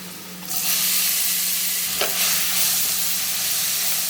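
Curry leaves, green chillies, garlic and shallots hit hot oil for a chutney, bursting into a loud, close, continuous sizzle with a quick stirring scrape midway and no voices.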